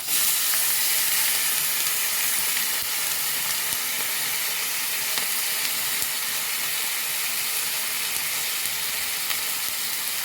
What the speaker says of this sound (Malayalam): ഇനി ഇതിലേക്ക് ഉണ്ണിക്കാമ്പാണ് ഇട്ട് കൊടുക്കുന്നത്